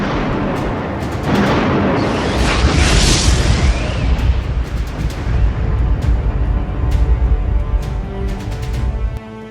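Missile attack explosions from Iranian strike footage: a dense, continuous roar of heavy booms and blasts, with sharp bursts scattered throughout, loud and close, with no speech.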